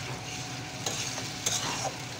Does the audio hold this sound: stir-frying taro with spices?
yes